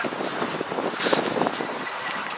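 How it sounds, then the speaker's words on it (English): Strong wind blowing outdoors at a breakwater in Keflavik, Iceland, gusting in uneven bursts of broadband rushing noise across the microphone, moderately loud with no voices. "It's really windy."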